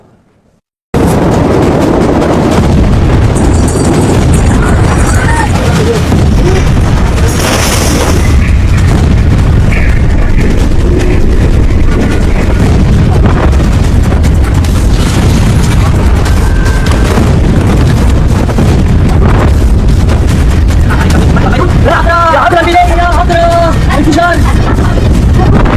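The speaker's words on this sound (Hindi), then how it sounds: "पांच, चार, तीन, दो, एक, जीरो और दुनिया दहलाने वाला महाधमाका" A huge, loud explosion booms out after a brief silence, then rolls into a long, sustained roaring rumble with crackling bursts, and voices are heard over parts of it.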